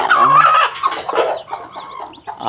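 A hen clucking loudly and close by, with a drawn-out call followed by shorter clucks and a few softer peeps.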